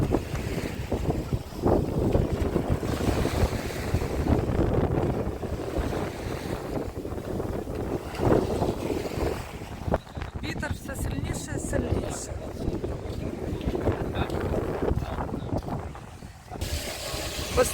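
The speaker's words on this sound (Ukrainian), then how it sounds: "дуже сильний вітер і він посилюється" Strong, rising gusting wind buffets the microphone in a continuous roar on the Odesa seafront near Lanzheron beach, with Black Sea waves in the background and people talking over it.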